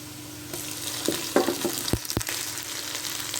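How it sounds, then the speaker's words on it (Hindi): Onions sizzle and fry steadily in a hot pan with ginger, garlic, green chili and coriander paste, with a few louder crackles and stirring scrapes partway through. "अब इसको फ्राई कर लेना है।"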